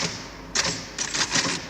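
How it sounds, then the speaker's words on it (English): Bursts of typewriter typing, with keys struck in quick uneven clusters separated by short pauses, close and fairly loud, with no talking. "you hear me typing"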